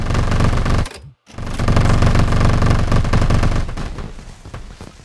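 Rapid crackling bursts of fireworks in Planet Coaster 2, dense rattling pops like gunfire, loud and continuous, broken by a brief silence near one second before resuming and slowly thinning out.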